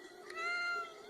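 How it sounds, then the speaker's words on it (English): A pet cat gives a single drawn-out, high meow, clear and close in an otherwise quiet room. "Did she meow?"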